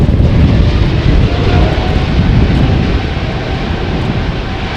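Embraer E2 jet engines spool up for a takeoff roll on a showery runway at Amsterdam Schiphol, a loud, sustained roar with heavy low-end rumble and wind buffeting that holds steady and eases only slightly toward the end.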